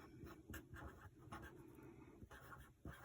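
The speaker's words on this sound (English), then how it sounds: "I have a sheet of stickers here, and we'll write templates" Pen writing on a sheet of stickers, soft close scratchy strokes in short bursts with brief pauses between them, quiet and alone.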